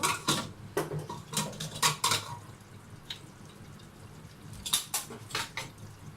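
Metal clinks and clatters from a cooking pot lid being lifted off a pot of beef stewed with pumpkin over low heat, with several sharp knocks in two bursts and no talking.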